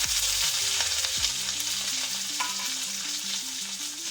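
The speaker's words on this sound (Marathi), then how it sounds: "जिरा मोहरी कडकडली आहे, यात ठेवून टाकते कढीपत्ता" Curry leaves drop into hot oil with crackling cumin and mustard seeds, a loud sustained sizzle with sharp pops, while a faint melodic tone plays underneath.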